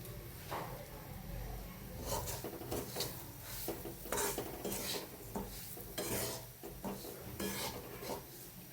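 Mung dal roasting in ghee in a pan over low heat, stirred with a spoon that scrapes and rasps steadily against the metal, with a soft sizzle underneath and repeated louder scraping strokes throughout.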